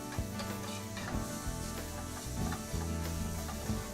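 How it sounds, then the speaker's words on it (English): Steady sizzling of mushrooms frying in a pan, with soft stirring and scraping sounds throughout, close up and without talk. "They're making that beautiful sizzling sound"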